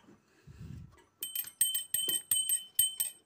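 A small church bell in a bell tower swings and rings in a quick series of bright, evenly spaced strikes after a low thump, clear and close.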